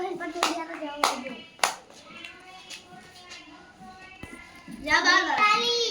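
Children in a second-grade maths pattern game clap their hands to count, giving a few sharp, separate claps near the start, with children's voices chattering around and between them.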